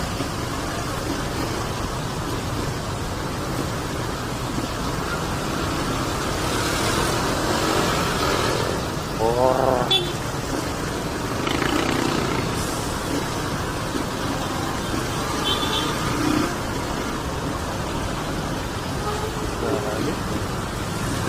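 Jammed road traffic at an overpass bottleneck, with trucks on a wet road, makes a constant broad rumble of engines and tire hiss. There are brief swells and indistinct voices in the background.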